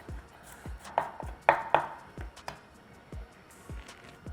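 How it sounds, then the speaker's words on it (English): A knife rough-chops three garlic cloves on a cutting board, a quick run of sharp close thunks at an uneven rhythm, a few louder chops clustered together, with no talking. "And then got our 3 cloves of garlic. We'll rough chops on these."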